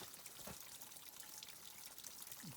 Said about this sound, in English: Got water coming right out of the rock